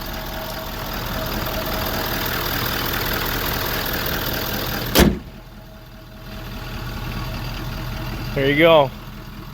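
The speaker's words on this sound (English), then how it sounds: "Sounds really good. Look how clean that motor is." A Ford 6.7 Powerstroke diesel V8 idling after an exhaust manifold and turbo replacement, a steady low rumble for several seconds that cuts off with a click, then near-silence before someone speaks briefly.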